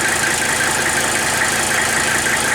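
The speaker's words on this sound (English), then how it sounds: "this engine sounds amazing" Loud, steady rumble of a Mercedes 300SD diesel car engine idling close by after an injector rebuild, an even mechanical chug with a faint ticking knock and no voices.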